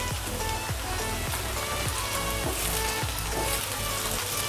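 Cumin seeds sizzle and crackle in hot oil with okra in a pan, a steady dense frying hiss with small pops throughout, close and fairly loud with no talking.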